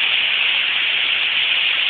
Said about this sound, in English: I've never seen it rain like this.